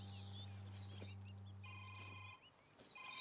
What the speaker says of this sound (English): I'm calling my phone.